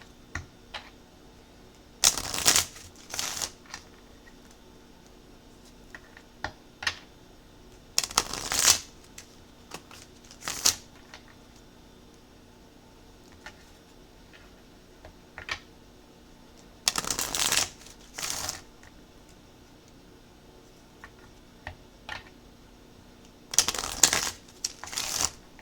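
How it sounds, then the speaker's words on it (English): Tarot cards are shuffled in several separate riffling bursts, close up, with quiet pauses and small taps between them. "Two more shuffles."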